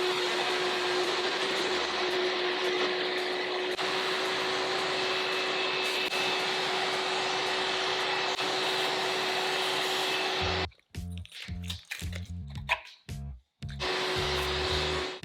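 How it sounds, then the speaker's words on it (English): A vacuum cleaner whines loudly and continuously for about ten seconds, then cuts off, followed by a few short clattering bumps before it starts up again. "get the vacuum cleaner, dispose of all the little plastic bits on the ground"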